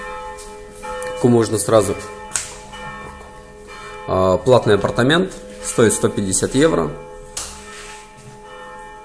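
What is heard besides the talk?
church bells ringing at Savina Monastery, Montenegro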